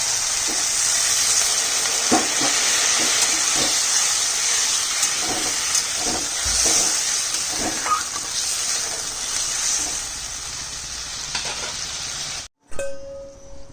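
Water hits a hot pan of Bengali fish curry and erupts in a loud, steady steaming hiss and sizzle that runs for several seconds, then cuts off abruptly.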